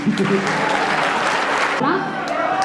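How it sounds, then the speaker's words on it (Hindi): Applause from an audience at a live music stage event in India, a steady broadband patter that runs nearly the whole time and then thins out, with some voice or tonal sound underneath. "तालियां बजाइए एक बार।"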